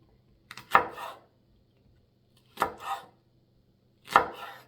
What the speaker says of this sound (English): And then I'm just going to cut out 1/2 of a jalapeno.